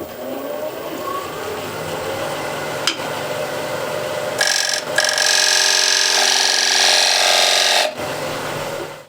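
A freshly sharpened gouge cuts a large wooden platter on a lathe, a steady spinning hum joined midway by a loud, bright rasping shear of continuous cutting that stops abruptly near the end.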